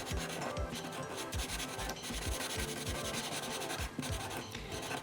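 Pencil colouring in a drawing of the Exalted Ice King, fast rhythmic back-and-forth scratching strokes on paper, close and continuous with no voices.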